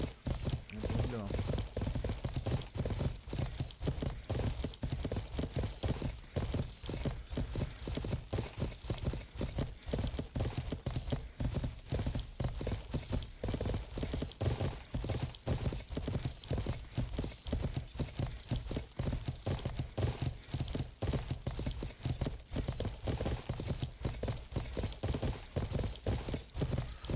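Horse hooves clip-clop steadily in the medieval MMO game Life is Feudal, a continuous rapid rhythmic clatter of a ridden horse lasting throughout, close and prominent.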